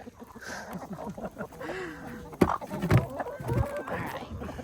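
Backyard chickens cluck and murmur in short irregular bursts at close range, with a few sharper squawks mixed in over a low outdoor background.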